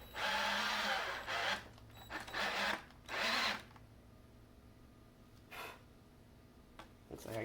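A battery-powered drill drives a screw into a cracking wooden board on a rabbit hutch, giving several short, close, whining bursts of motor noise separated by pauses, the later bursts fainter and briefer.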